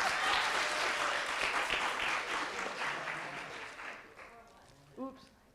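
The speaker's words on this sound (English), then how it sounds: "So give the second years a big round of applause." An audience at a high school performing arts awards night applauds loudly and steadily. The clapping gradually fades, and a brief voice follows at the end.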